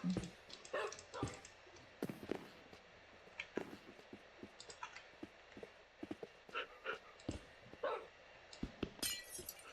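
Glass blocks being placed and broken in a survival video game, a series of short sharp crisp clicks and shattering ticks scattered irregularly, with clip-clop-like taps over quiet background.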